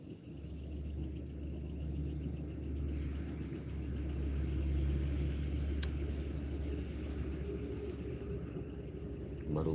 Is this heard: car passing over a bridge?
yes